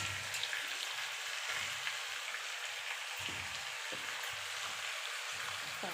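Pork with potatoes frying in an iron kadai, a soft continuous sizzle with a few scraping stirs coming at irregular intervals, heard close and quiet with no talking.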